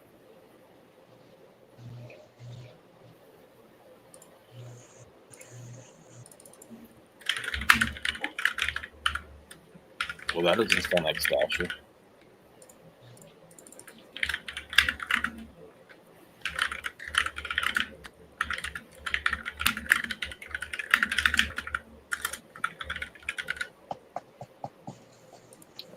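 Rapid clattering keystrokes on a computer keyboard come in bursts, moderately close, while someone talks over and between the typing.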